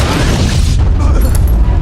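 A loud, booming explosion from a film scene, a dense low rumble that fills the whole stretch and fades slightly toward the end, close and overpowering.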